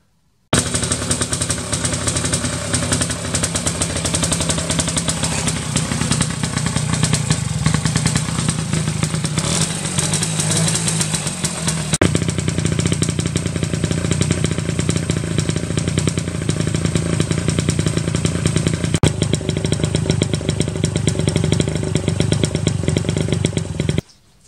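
A small Goyon engine, freshly reassembled with its ignition timing reset and a new spark plug, runs loudly and continuously near the microphone, a rapid buzzing putter that shifts pitch slightly partway through, then cuts off at the end.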